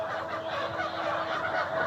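Layer hens cluck in a poultry shed, a dense continuous chorus from many birds filling the space with overlapping calls.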